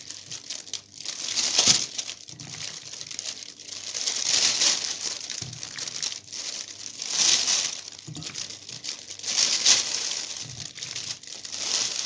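Plastic oven bag crinkles and rustles up close as raw chicken pieces are placed inside, with repeated bursts of crisp crackling every couple of seconds and softer handling noise in between. No one speaks.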